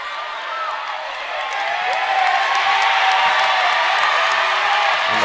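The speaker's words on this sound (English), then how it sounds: "Crowd seems to be into it." College basketball crowd at a DSU Hornets versus NC A&T Aggies game reacting to a scuffle, a swelling roar of cheers, whoops and scattered clapping building louder over several seconds, with a commentator talking over it.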